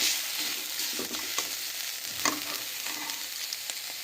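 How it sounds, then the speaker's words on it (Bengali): Prawn heads fry in hot oil with a steady close sizzle, broken by a few soft stirring scrapes in the pan and no voices. "এই মাছের মাথাগুলোকে আমরা খুব ভালো করে ভেজে নিচ্ছি"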